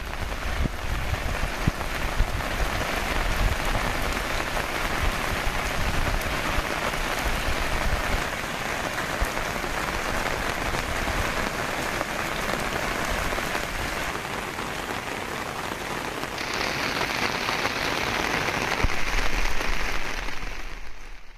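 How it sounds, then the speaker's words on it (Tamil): Heavy rain in Tamil Nadu pours steadily as a dense, continuous hiss and patter, loud and unbroken for about twenty seconds with no voices. "கனமழை பெய்ததால் சாலைகளில் மழைநீர் பெருக்கெடுத்து ஓடியது"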